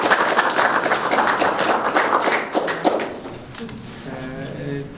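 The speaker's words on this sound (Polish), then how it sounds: "Brawa dla Pani Malarek" Applause at a ceramics festival event in Włocławek: dense clapping from an audience that thins out and fades after a few seconds, with voices in the room.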